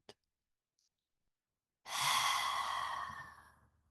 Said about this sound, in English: breathe out that hot and heavy breath from the back of your throat